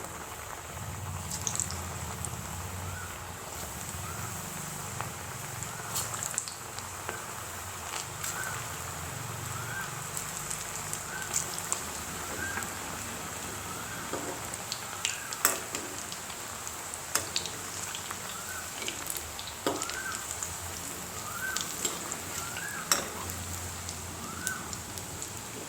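Jackfruit kofta balls frying in hot refined oil in a kadhai over a medium gas flame, a quiet steady sizzle with scattered crackles and pops throughout, no talking.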